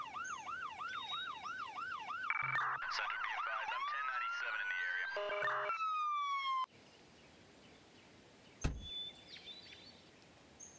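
Loud ambulance sirens in a video game wail and yelp in overlapping patterns, then cut off abruptly, leaving quiet background with a single thud.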